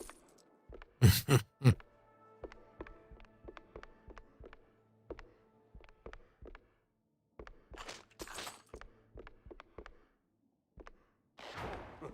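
Low, ominous moaning and groaning voices in the Mouse: P.I. for Hire video game, rising in a few loud bursts amid sparse clicks and ticking game sounds, with quieter stretches between.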